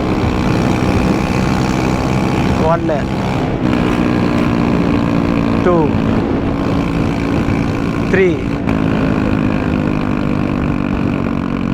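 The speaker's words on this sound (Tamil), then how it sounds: "டிஃப்ரெண்டான எக்ஸாஸ்ட் சவுண்ட் இப்போ உங்களுக்கு நான் காட்ட போகிறேன்." A vehicle with four different exhaust sounds gives a continuous low engine rumble with brief chirping tones, while a nearby voice counts aloud.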